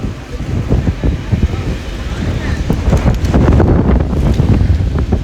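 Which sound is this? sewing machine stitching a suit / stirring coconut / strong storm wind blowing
strong storm wind blowing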